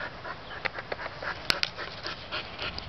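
A dog pants in quick, close breaths with a few soft sniffs and one sharper snort, eager for treats in a home setting; no one speaks over it.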